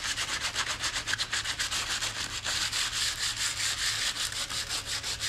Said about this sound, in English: Basically just sanding off the splinters and pointy edges